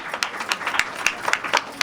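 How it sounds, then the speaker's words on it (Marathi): A small audience gives a short round of scattered applause at a women's association awards event in Pandharpur, with separate sharp claps at a moderate distance and no voices. "तिच्यासाठी आणि त्यांच्यासाठी एकदा जोरदार टाळ्या"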